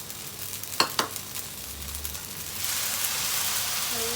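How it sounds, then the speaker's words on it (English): Singapore-style fried rice noodles sizzle in a pan as they are stir-fried, with a couple of sharp scraping clacks early on and then a louder, steady crackling hiss. "You hear the sizzling?"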